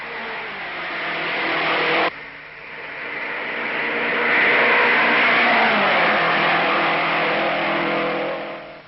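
Pat Flaherty's 1956 race car on a record-setting four-lap qualifying run, its engine a loud, close, sustained roar with a brief dip in pitch around two seconds before climbing and holding steady.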